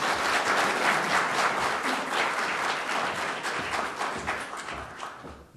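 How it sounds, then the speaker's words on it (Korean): A church congregation gives warm applause to welcome a visiting pastor. The clapping is dense and loud, rolls on for over five seconds and tapers off slightly toward the end. "뜨겁게 박수로 환영하겠습니다."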